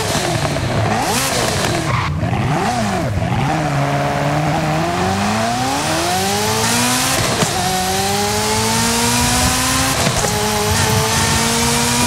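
A loud Ferrari 250 GTO engine roars and climbs through the revs in Forza Horizon 5, dropping briefly at gear changes before surging again, with tire noise.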